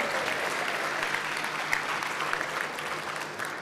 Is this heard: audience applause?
yes